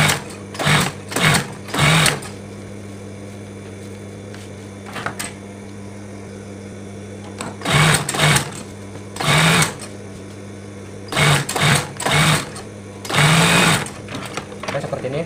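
An electric sewing machine stitches fabric for a mukena prayer garment in loud bursts of rapid whirring, several separate runs with pauses between them, close to the mic.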